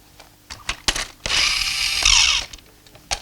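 Toy armored personnel carrier running on an air-lithium battery and started by holding a magnet to it. Faint clicks come first, then a close, loud whirring ratchet-like motor buzz lasts about a second before stopping.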